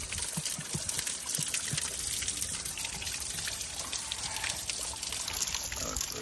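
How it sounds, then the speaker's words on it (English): A waterfall on a snowy spring hike gives off a steady, fairly close rush of falling, trickling water that holds constant throughout, with a few brief knocks early on. "Came across this freaking waterfall."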